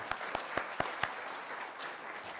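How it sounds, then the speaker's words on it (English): A church congregation applauds first-time visitors: a handful of sharp, distinct claps in a quick rhythm over faint, distant scattered clapping that soon thins out. "if you just put your hand in the air and we'll give you some applause"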